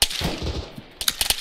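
Mortar rounds in the military shooter ARMA 3 go off as a few sharp, loud booms near the end, after a stretch of rumbling battlefield noise and distant fire.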